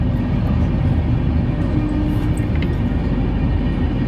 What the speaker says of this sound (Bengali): পাঁচটা পঁচিশে আমাদের ট্রেন দীঘা থেকে ছেড়ে বেরিয়ে গেল